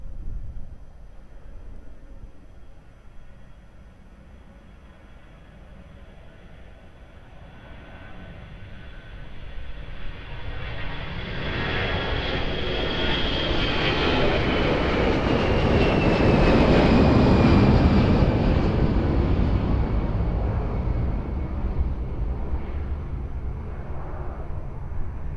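A plane coming in to land on runway 02 at Lisbon Airport, engine roar swelling steadily from a distant rumble to a loud, broad whine overhead before easing off, heard alone over background noise.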